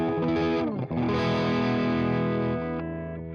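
Crunchy overdriven electric guitar through an Amplitube amp simulator, sustained chords with a brief break near one second, then ringing on and gradually fading, loud and alone.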